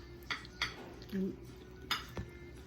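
Macaroni salad ingredients mixed in a bowl, with a few distinct clinks and scrapes of a utensil against the bowl spaced through a quiet stretch and a brief low murmur.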